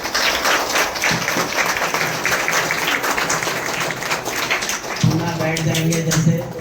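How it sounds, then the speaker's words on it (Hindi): An audience at a retirement ceremony at GUMS Kochbong stands and applauds, giving a loud, dense wash of clapping throughout, while a voice talks over the claps toward the end. "एक बार मैडम के लिए खड़े होकर ताली आप बजा देंगे तो हम धनी हो जाएंगे"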